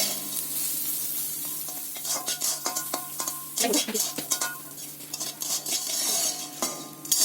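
Dry fruits frying on a low flame in a pan for sheer khurma, with a steady soft sizzle throughout and repeated clinks and scrapes of a utensil stirring against the metal.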